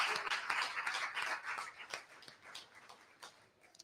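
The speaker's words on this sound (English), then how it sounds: "give a round of applause to our entire team for putting on this evening" An audience at a high school volleyball awards evening claps for the event team, a short, fairly quiet burst of applause that trails off at the end.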